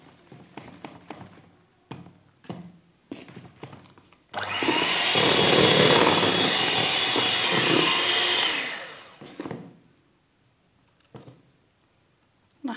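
An electric mixer whirs steadily for about four seconds through mouskoutchou sponge cake batter, with scattered taps and bowl knocks before and after the run.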